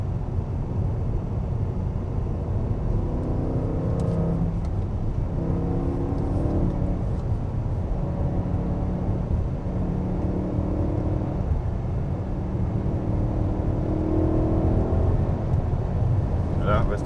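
A BMW M3 gathers speed gradually on the Michelin test track circuit near Salon-de-Provence, a steady engine drone slowly rising in pitch under constant road and wind noise.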